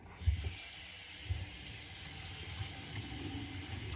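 Tap water running from a kitchen sink faucet into the drain, filling a newly fitted P-trap; a steady, low hiss of flow with a couple of soft thumps near the start, heard close and fairly quiet.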